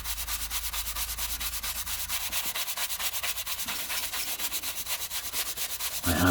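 Dust is wiped and rubbed off vintage Penguin paperback books in rapid, steady back-and-forth strokes, a close dry scratchy brushing that continues without pause and ends in a slightly louder scuff.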